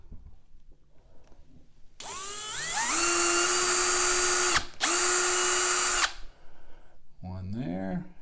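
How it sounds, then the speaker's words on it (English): A power drill whines loudly and steadily for about four seconds while drilling screw guide holes on an electric guitar build, pausing briefly midway, then stops; a voice follows. "I'm just going to go ahead and drill a couple of guide holes"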